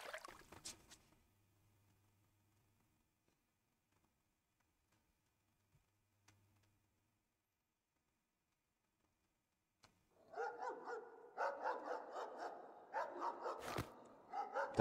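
A three-headed dog barks in the video game Pocket Mirror: GoldenerTraum, a few brief ticks early, then a run of repeated barks in the last few seconds.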